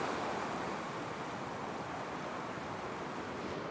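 Ocean surf washing against a rocky shoreline at night, a steady broadband wash of breaking waves and spray that stays loud and continuous throughout, with no voices.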